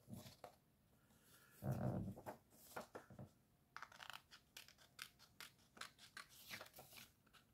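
Scissors snip paper for an autumn-themed hot drink craft, several separate close cuts and rustles in short bursts with pauses between them, quiet overall.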